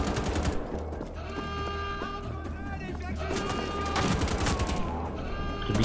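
Sustained automatic gunfire from Wolfenstein: The Old Blood inside Castle Wolfenstein, rapid bursts that run almost without break across the whole stretch, loud and dense with game ambience beneath.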